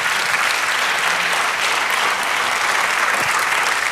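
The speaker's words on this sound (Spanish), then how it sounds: "Amén, dame un aplauso a Cristo." A church congregation applauds continuously, a dense steady wash of clapping that holds at an even level throughout.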